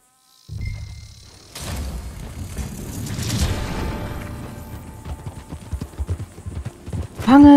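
Horses in the Red Dead Online game gallop through a tunnel, a steady rapid clip-clop of hooves with a hollow, echoing rumble, loud and close, ending in a sharp whinny.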